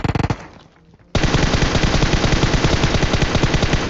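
An M4 rifle in PUBG Mobile fires a short rapid burst, falls briefly quiet, then opens up in loud, sustained automatic fire with tightly spaced shots continuing to the end.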